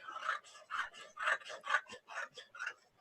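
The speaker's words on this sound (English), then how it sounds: "the sound of cardboard being cut" Scissors cut through card in a quick series of about a dozen crisp, rasping snips, each a short crunchy burst in an even rhythm, close and fairly quiet with no talking.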